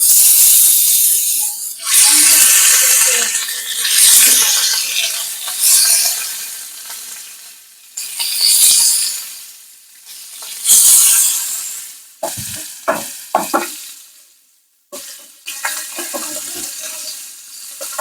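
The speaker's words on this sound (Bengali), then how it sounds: "তেল গরম হয়ে এসছে এবার আমি একে একে মাছগুলো দিয়ে দেবো" Mrigal fish pieces hit hot oil one by one, each drop setting off a loud, close sizzle that swells and fades, with scraping and clattering in between.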